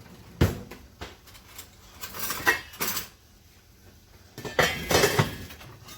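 A fork and other cutlery clink against dishes in a home kitchen while pork chops cook: several sharp, separate clatters and clinks in irregular bursts, close by, with no talking.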